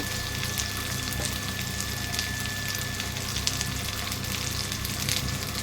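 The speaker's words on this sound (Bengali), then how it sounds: "এবার আমি একে একে গুঁড়ো মশলা দিচ্ছি। জিরে গুঁড়ো, ধনে গুঁড়ো" Ground cumin and coriander frying with chicken in a pan for a dry Bengali chicken kosha made without water, giving a steady, close, even sizzle throughout with no talk.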